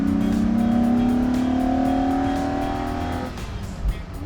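A 1963 Ferrari 250 GTE engine pulls hard and close by, a loud sustained note sweeping upward as the car accelerates, then easing off into a lower rumble near the end.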